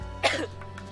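A single short cough, close to the microphone, bursts out once, followed by quiet room noise.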